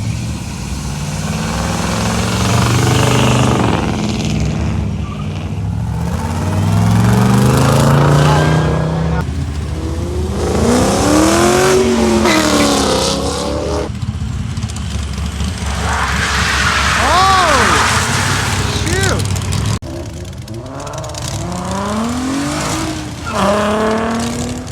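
A car drifting and accelerating hard as it leaves a car show of muscle cars, trucks and supercars: loud engine roars rise and fall in pitch, with tire squeal during the slide, while onlookers talk and react nearby.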